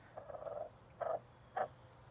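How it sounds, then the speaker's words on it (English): A frog croaks from inside a pond overflow pipe, sounding as three separate calls: first a longer rattling croak, then two shorter ones, fairly faint against a steady background hiss. "I think there's a frog living in our pipe."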